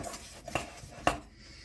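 Spoon stirring sticky coconut dough in a bowl for coconut balls, with two soft, close scraping strokes against a quiet background.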